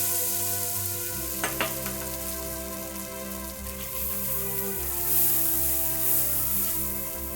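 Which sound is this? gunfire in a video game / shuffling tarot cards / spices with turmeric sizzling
spices with turmeric sizzling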